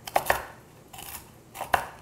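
A knife cutting candied walnuts on a cutting board, with a few crisp close chops in small clusters separated by short pauses.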